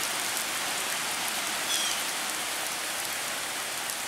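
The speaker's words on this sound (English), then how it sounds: "we haven't had a lot of rain this summer, so this is really good to see" Steady rain pours outdoors on a summer day, a dense, even hiss of drops on surfaces that holds at a constant level with no voices.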